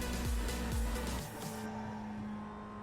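A race car engine held in third gear in the iRacing simulator drones and revs in short pitch sweeps, then settles into a steadier tone as the car runs through a corner, with no talk.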